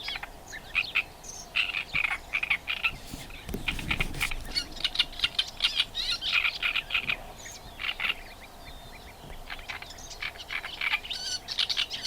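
Several small songbirds, likely a whitethroat among them, sing in repeated bright bursts outdoors on Lesvos, with other birds calling around them and a brief low rumble midway; no one speaks.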